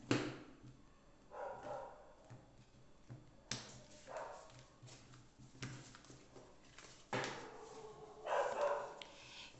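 Several dogs bark in repeated bursts, some close and loud, others farther off, with short pauses between volleys and no talking.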